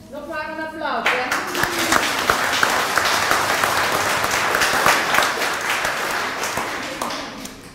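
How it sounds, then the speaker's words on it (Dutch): After a brief voice at the start, a crowd at a junior dictation contest prize-giving in Sluis breaks into sustained, full applause, many hands clapping evenly and fairly loud until it tapers at the end. "Nog maar een applaus, hè?"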